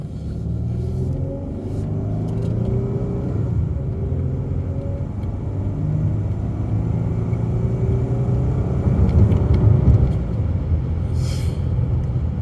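A 2013 Dodge Charger Pursuit drives along with a steady low engine rumble and road noise, the engine note swelling slightly midway.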